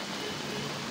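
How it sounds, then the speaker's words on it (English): Heavy rain pours steadily in Mumbai as a dense, continuous hiss that fills the whole moment with no breaks and no voices. "there is a very heavy rain."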